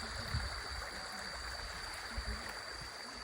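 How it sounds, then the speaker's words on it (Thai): A small waterfall cascade on a forest stream gives a steady, faint rushing wash of water that runs unbroken throughout, with no voices. "ฟังเสียงน้ำทุกคน อันนี้คือน้ำตกย่อยๆยังไม่ได้เจอน้ำตกใหญ่"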